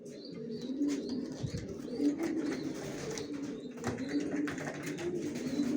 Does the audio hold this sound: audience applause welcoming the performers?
no